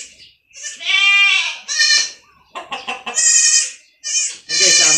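Young goats bleat in a series of about six loud, close, wavering cries with short gaps between them, with no other sound in the background.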